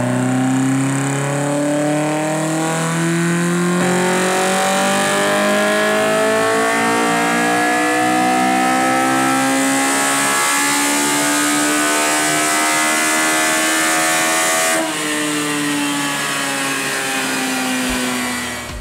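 A loud Honda S2000 engine revs hard on a dyno with the air filter removed, in sustained pulls, its pitch climbing steadily, then drops briefly and climbs again, close and continuous with no talking.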